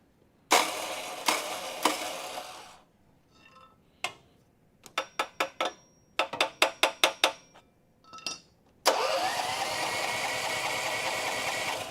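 Snow blower or generator engine being cranked with the choke on, several pull-start attempts giving short rattling bursts and quick sputters, then the engine catching into a steady close running noise at the end.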